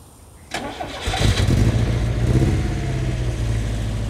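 An old Peugeot 404 that has not run in a long time cranks and catches, then settles into a loud, rough, uneven idle close by, with the engine not firing on all cylinders.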